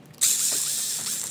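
A power driver backs screws out of the gearbox on an MST RMX 2.0 RC drift car, a sudden close, bright whirring and ratcheting buzz that runs steadily for about a second after a short quiet start.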